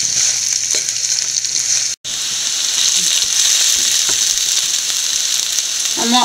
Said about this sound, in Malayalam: നല്ലപോലെ വഴറ്റിയെടുക്കാൻ നമുക്ക് ഇടയ്ക്കിടയ്ക്ക് ഇളക്കി കൊടുത്തുകൊണ്ടിരിക്കുക